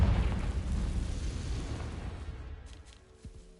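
The Confringo fire spell exploding in a Harry Potter video game, a loud rumbling blast that bursts at once and then fades slowly into a faint tail.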